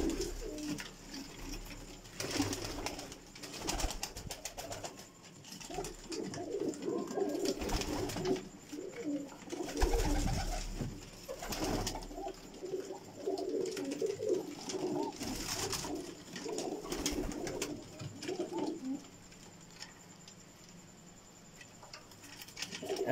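Pigeons cooing in a rooftop loft, including young birds, with repeated low murmuring coos and soft patter of movement, fairly close and continuous over light background noise.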